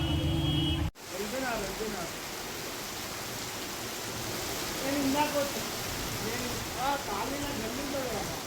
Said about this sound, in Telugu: సిటీలో బంజారాహిల్స్ ప్రాంతంలోనూ భారీ వర్షం కురిసింది.